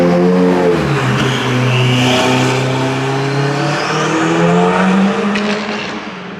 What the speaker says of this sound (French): l'échappement de la pista il est pas stock là hein. Elle fait un joli bruit.